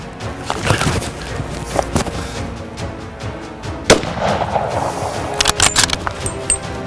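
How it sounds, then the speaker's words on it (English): Rifle shots ring out during a free-range nilgai and blackbuck hunt, several sharp reports in quick succession, one especially loud and close, over an outdoor background of rustling and clatter. "That is some quick shooting, ladies and gentlemen."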